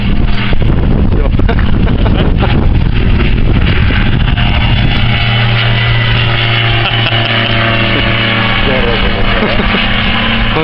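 Strong wind buffets the microphone in loud, rough gusts, with a steady engine drone rising beneath it partway through. People talk over it.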